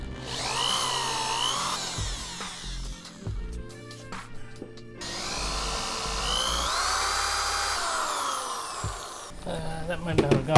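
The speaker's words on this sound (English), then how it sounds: "I marked out my location here to drill" A power drill, used freehand, bores through a big wooden board, whining in long bursts, its pitch rising and falling as it bites, with short pauses and clattering between runs.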